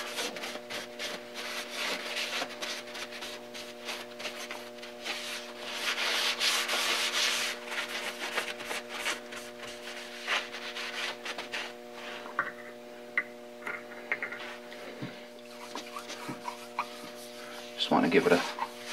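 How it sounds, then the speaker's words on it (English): A cloth rubs a film of oil onto a Brown & Sharpe metal dividing head with a steady, close, soft swishing that lasts the whole stretch. A constant low hum sits underneath. "can really just give this thing a little film of oil just to protect"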